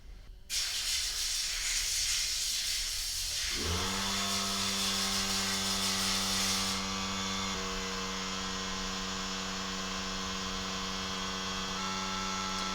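Compressed air hisses steadily through a vintage Park lighter, close and loud, starting abruptly after a brief pause and running as a constant blast with a strong tonal whine.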